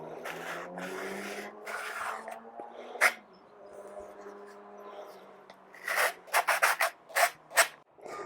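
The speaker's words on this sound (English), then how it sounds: "one thing I've read is we need to deburr this" The rough cut end of PVC pool piping is deburred by hand, with soft scraping strokes and a faint hum early on, then a quick series of sharp rasping scrapes close by near the end.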